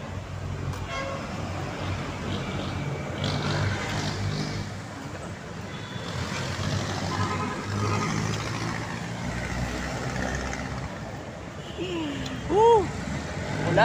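Steady street traffic roars around a jeepney ride, with engines and road rumble throughout and a short car horn toot near the end. Indistinct voices come and go under the noise.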